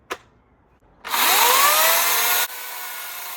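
A LIDL Parkside electric chainsaw cutting wood: a sharp click, then the motor bursts into a loud, steady high whine for about a second and a half before dropping to a lighter, continuous running buzz.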